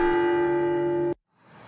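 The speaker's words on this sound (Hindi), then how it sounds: "उन लोगों के जाते ही कुछ देर में दरवाजे की घंटी फिर से बजती है।" A cartoon doorbell sounds a single sustained electronic chime-like bell tone, loud and steady for about a second before cutting off abruptly into near silence, with no voices.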